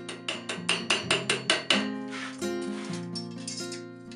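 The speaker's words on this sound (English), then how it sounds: "Now a few taps of the hammer, just to even out the curves of the tip." About eight sharp, evenly spaced hammer taps ring on a metal plate for a lamellar helmet, each leaving a bright ringing tail, followed by lingering tones as the strikes stop.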